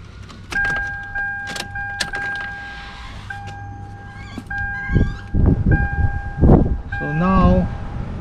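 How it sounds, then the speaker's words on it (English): Ignition key turned to the on position in a 2002 Toyota 4Runner, bringing a steady two-tone warning chime with short clicks and electronic beeps up close, and a person speaks briefly over the tones. "now we're going to have to turn the ignition key to the on position"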